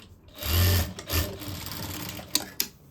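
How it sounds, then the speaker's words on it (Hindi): A sewing machine runs in short bursts, stitching a seam on a sleeve-cut blouse with a strip placed beneath, then a couple of quick clicks at the end. "अब इसको इस तरह रख के ब्लाउज को एक पैर की सिलाई लगाएंगे।"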